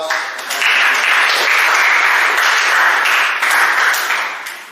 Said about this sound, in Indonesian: Boleh kita beri aplaus.